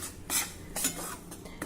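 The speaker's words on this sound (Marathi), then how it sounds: "मंद आचेवर अगदी खमंग ही कणिक आपल्याला भाजायची आहे।" Wheat flour roasting over low heat in a thick-bottomed kadhai is stirred with a utensil, making a few close, distinct metallic scrapes and knocks against the pan.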